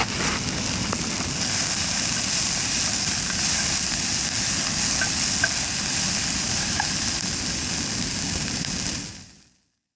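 Vegetables and broccoli sauté in a pan for a turban snail stir fry, making a continuous, even sizzle with a faint low rumble underneath that fades out at the very end.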